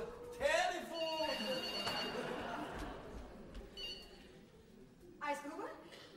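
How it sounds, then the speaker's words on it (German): Telephone ringing in a German folk theatre stage comedy, with electronic rings at the start and again near the end over faint room noise and audience chatter. "Telefon."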